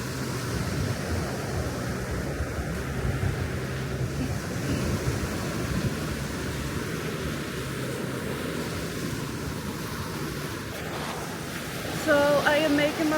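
Waves washing in at Sao Beach on Phu Quoc Island, a continuous broad surf rumble with wind buffeting the microphone, steady throughout and swelling slightly near the end, with a person talking over it.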